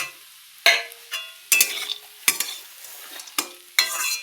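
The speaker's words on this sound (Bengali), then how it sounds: "এবার এর মধ্যে এই যে কাজু আমন্ড কিশমিশ সব দিয়ে দিলাম।" Vegetables with cashews, almonds and raisins being stir-fried for fried rice in a pan: repeated sharp scraping stirs, about five or six strokes, over a steady close sizzle, with no talking.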